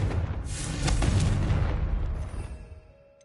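A Confringo explosive spell going off in the Hogwarts Legacy video game, a loud booming blast with a rumbling low tail that rolls on for a couple of seconds before fading out.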